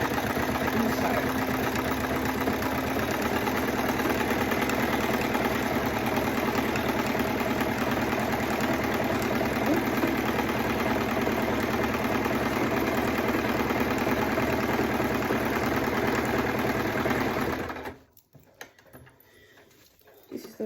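A sewing machine runs steadily, stitching binding onto an oversized hot pad with a continuous whirring motor drone for about seventeen seconds, then stops abruptly, leaving near silence.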